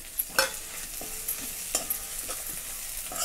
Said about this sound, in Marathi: टमाटरसोबत पण आपल्याला 2 मिनिटं अजून हे वाटण छान असं तळून घ्यायचं आहे